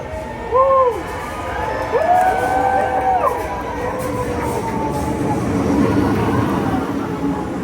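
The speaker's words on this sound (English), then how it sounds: "the first train to enter the Metro Tunnel has just arrived at Footscray from the Sunbury bound" The first Metro Tunnel train pulls into Footscray station, its electric motor whine rising and falling beneath a cheering, chattering crowd on a busy platform.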